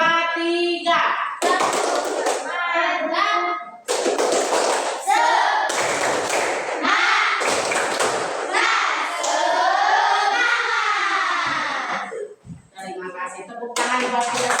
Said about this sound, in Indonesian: Kita tepuk semangat sama-sama.